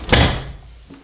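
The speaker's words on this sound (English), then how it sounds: "Close the door." The door of a Hoover Nextra HNL662 washing machine shuts with one loud, close thud, then a faint click of the latch a moment later.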